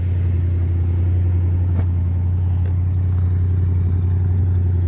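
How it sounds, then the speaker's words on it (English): A 1981 Chrysler Cordoba LS engine idles steadily with a deep, throaty exhaust drone, close and constant, with a couple of faint clicks. "it's got a good little exhaust tone to it"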